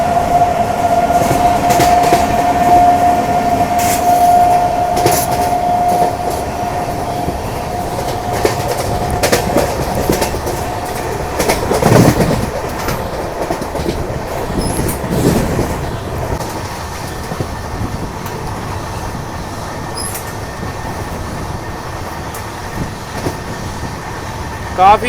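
The Mumbai Howrah Duronto Express runs at high speed, heard from on board as a loud continuous rumble with rhythmic wheel clatter and a brief whining tone early on.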